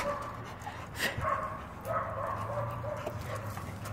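A stray dog makes soft whimpering and yipping sounds, with brief louder yelps, close by over a low steady background hum.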